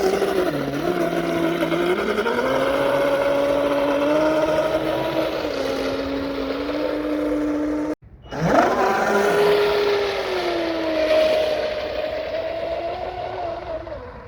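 A Traxxas M41 radio-controlled speedboat runs on water with a loud, high-pitched motor whine that holds steady, cuts out abruptly for a moment, then surges and climbs again.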